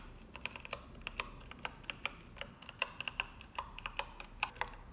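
Crisp clacking keystrokes from a mechanical keyboard, typed at an uneven, relaxed pace, close and clear against a quiet background.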